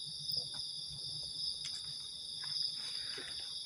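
Crickets chirp at night outside a supposedly haunted building where people are camping, a steady, continuous high-pitched trill with faint scattered rustles and distant background noise beneath.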